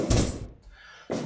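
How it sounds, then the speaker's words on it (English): Two heavy thuds from a power bomb slam in a wrestling video game: a boomy impact opens the moment, then a second hit lands about a second later. Between them there is only a faint lingering tail. "And ooh, power bomb"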